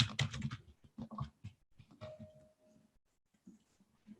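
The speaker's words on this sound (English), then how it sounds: "I'm using the keyboard." Typing on a computer keyboard, a quick cluster of loud, close keystrokes followed by sparser, softer taps with brief pauses between them.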